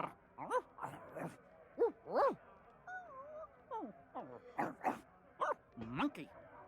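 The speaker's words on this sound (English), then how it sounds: "we need to hear what else the dog has to say" A dog in the pirate video game Sea of Thieves lets out a run of short, varied barks and yelping whines, close and fairly clear, in an uneven rhythm.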